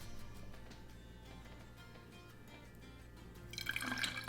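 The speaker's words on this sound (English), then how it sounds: "now I'm just gonna pour it into my little measuring cup with a little spout." Kombucha poured from a jar into a measuring cup with a spout, a soft steady trickle of liquid over a low background hum, brightening into a louder splashing fill near the end.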